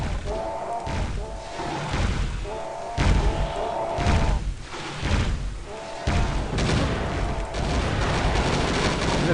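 In the Serious Sam video game, a cannon and other weapons fire as a series of heavy booms and thuds. The blasts repeat every second or so over a dense, continuous bed of battle noise.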